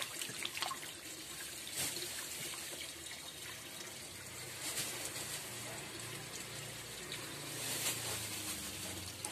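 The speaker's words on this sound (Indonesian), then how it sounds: "kita isi airnya biar dia segar lagi" Water trickles and splashes into a tank holding a toman fish, a fairly faint, continuous pouring with occasional louder gushes and faint background voices.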